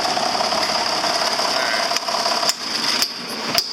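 A John Deere 7410 tractor engine runs at a steady idle close by, a continuous mechanical drone with a few brief knocks and clunks over it.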